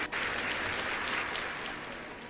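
A live show audience breaks into a steady wash of applause and cheering, dense and even, fading slightly toward the end.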